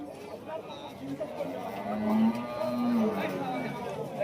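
Cattle low a few times at a busy cattle and buffalo market in Rajshahi, with nearby chatter and crowd babble mixed over the moos.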